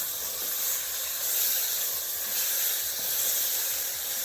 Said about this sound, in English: We're gonna give our pork a nice saute.